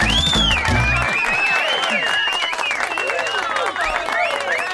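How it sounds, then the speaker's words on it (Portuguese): A canned applause sound effect plays on a Brazilian TV morning show. Dense, continuous clapping and crowd noise sound close and loud, with voices mixed over it throughout. "Põe palmas pra ela, tem aí? Tenho palmas aqui."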